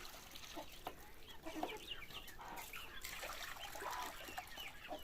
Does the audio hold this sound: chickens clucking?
yes